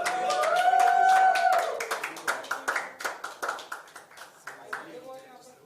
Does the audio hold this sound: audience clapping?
yes